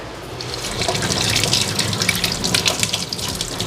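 Chillies are washed under a running kitchen tap, a loud, close, continuous gush of water splashing over them in the sink, with no talking.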